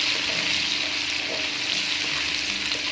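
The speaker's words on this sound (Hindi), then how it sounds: "मैं तकरीबन 1 बड़ा चम्मच इसमें लहसुन अदरक का पेस्ट शामिल करूँगी। 2 मिनट के लिए आपने इसको अच्छे से फ्राई कर लेना है" Garlic-ginger paste sizzles steadily in a hot pan for a liver (kaleji) masala, a dense continuous hiss of frying with no pauses or talking.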